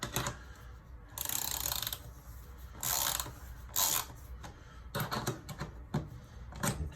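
Bolts on a shower drain being tightened with a hand tool, heard as several short bursts of quick mechanical clicking separated by quieter pauses, close up.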